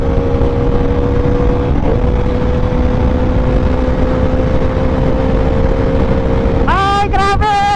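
A McLaren 765LT sports car engine holds a loud, steady drone, then climbs in a sharp, high rev toward 9,000 RPM near the end.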